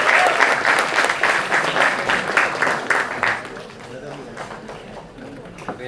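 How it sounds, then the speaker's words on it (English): Audience applause welcomes a moderator to the stage at a film festival conversation session, strong clapping at first that gradually thins and fades, with some voices underneath. "Please welcome Mr. Rohini Ramanathan to the stage with another round of applause."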